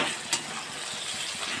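Onions frying in a home kitchen pan, a soft, fairly even sizzle with one sharp clink near the start and faint stirring scrapes.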